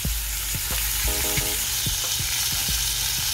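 Swordfish in a lemon parsley marinade sizzles steadily on a grill, a loud, constant hiss with occasional soft pops and taps throughout.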